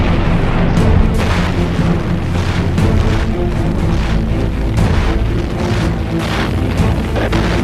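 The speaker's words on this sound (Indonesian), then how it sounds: "bom-bom meriam Amerika terus-menerus dilemparkan ke Saipan" American naval artillery bombardment during the Pacific War at Saipan, a continuous dense roar of heavy booms and rumbling explosions, loud and unrelenting with no voices.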